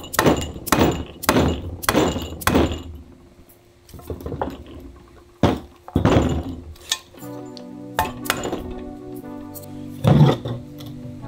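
Metal parts being hammered into a Total Chaos lower control arm on a second-generation Toyota Tacoma, with several sharp, loud strikes in quick bursts followed by scattered lighter knocks and a few more hits, close up.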